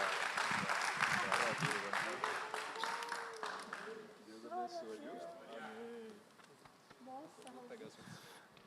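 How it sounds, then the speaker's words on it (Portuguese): A church congregation claps together in a dense burst of applause that fades after a few seconds, giving way to voices speaking and singing. "E as palmas são para Jesus."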